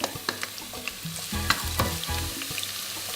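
About four cloves of garlic frying in roughly five tablespoons of olive oil in a hot casserole dish, a close crackling sizzle with sharp pops and stirring knocks, no speech.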